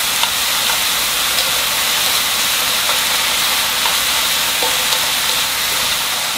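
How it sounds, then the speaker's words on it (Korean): Shimeji mushrooms stir-fry with soy sauce over high heat, producing a loud, even, hissing sizzle that holds steady throughout with faint clicks of stirring. "이렇게 센 불로 빨리 볶아주세요"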